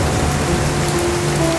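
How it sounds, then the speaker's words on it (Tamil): Heavy rain falling steadily in a dense, constant wash, close and loud, with a faint hint of distant thunder and no voices. "அன்னைக்கு பெரிய மழை பெஞ்ச மழையில வெள்ளம் வந்துச்சு"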